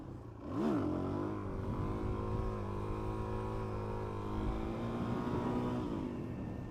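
A 2017 Suzuki DRZ400SM single-cylinder motorcycle pulls away in first gear, its engine note rising and holding steady under light throttle, heard close and alone.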